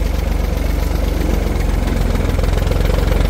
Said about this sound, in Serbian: bitno je da traktor odradi na leru bar minut kako bi prirodno spustio